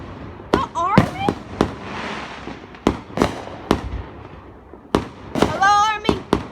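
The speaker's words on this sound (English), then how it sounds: "Dang, who's doing fireworks over there?" Distant fireworks set off by the army at an annual display, a string of sharp pops and crackling bursts echoing at irregular intervals, with a person talking between them.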